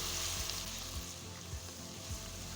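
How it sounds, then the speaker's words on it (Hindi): Garlic ginger paste frying with onions in a pan, a dense continuous sizzle with soft periodic stirring scrapes, close and steady throughout. "अब इसी प्याज में मैं लहसुन अदरक का पेस्ट डाल दूँगी और इसको अच्छे से भून लूँगी"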